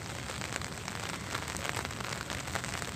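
Rain falls steadily on a flower garden, a dense, even hiss of drops on leaves and ground with no pauses, close and fairly loud.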